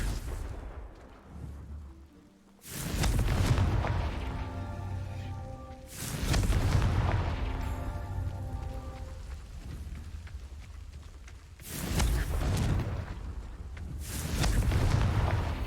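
Confringo explosive spell blasts in the video game Hogwarts Legacy, four heavy booming bursts that each roll on into a long rumbling decay, loud and close.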